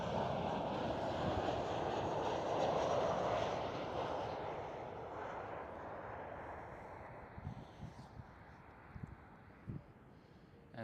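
Boeing 747 cargo airliner at Schiphol, a loud jet roar that peaks early and gradually recedes into a distant rumble, with a few faint knocks near the end.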